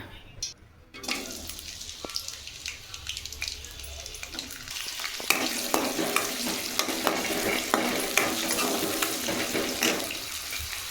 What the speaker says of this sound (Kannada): ಶುಂಠಿ ಟೊಮೊಟೊ ಪುದೀನ ಸೊಪ್ಪು ಕೊತ್ತಂಬರಿ ಸೊಪ್ಪು ಈರುಳ್ಳಿ ಇವಾಗ ಇದನ್ನೆಲ್ಲ ಹಾಕ್ಬಿಟ್ಟು ಎಣ್ಣೆಲಿ ಫ್ರೈ ಮಾಡ್ಕೊಳ್ಳೋಣ